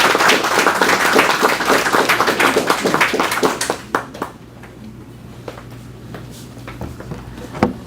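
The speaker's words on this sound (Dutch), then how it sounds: "Mag ik nu een hartelijk applaus voor Helene." An audience claps for a speaker at a lecture at the National Archive in Suriname, dense and close for several seconds, then thinning to a few scattered claps before stopping.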